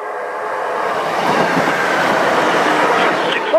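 A Class 156 diesel train, unit 156401 bound for Doncaster, runs past the Rowston North level crossing with a loud, close rumble and rattling wheels that build and hold steady, ending with a faint high squeal.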